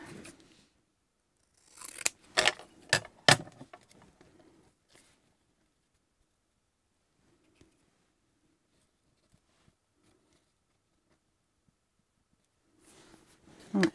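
Scissors snip paper for a scrapbook index card in a short run of sharp close cuts, followed by near silence with a few faint ticks and soft handling at the end.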